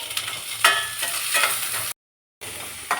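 Onion, green chili and curry leaves fry in a pan with a close, crackling sizzle and scraping stirs, briefly cutting to silence before the sizzle resumes; no one talks.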